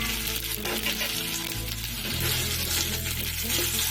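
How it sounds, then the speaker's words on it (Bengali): Cut potatoes sizzle in the hot oil left from frying fish heads, a dense, continuous frying hiss that swells louder partway through. No one talks. "এই মাছের মাথা ভাজার তেলটার মধ্যে আমি এবার কেটে রাখা আলুগুলোকে দিয়ে দেব।"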